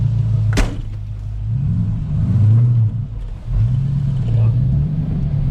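Engine of a 1950 Ford F1 truck cranking over and catching with a sharp burst, then settling into a deep, loud rumble with a few revs and dips, heard close.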